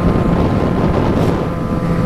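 A loud, steady Yamaha XJ6 motorcycle engine and exhaust drone mixed with heavy wind rush on a track, unbroken and with no voices.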